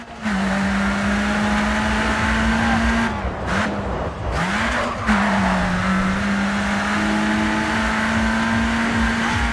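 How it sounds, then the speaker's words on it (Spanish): Race car engine in the Grid 2 video game, a loud, sustained high engine drone holding a steady pitch, briefly dropping and rising again through a gear change or corner with a short tire squeal, with no talking. "Me canta el sonido del motor, madre mía."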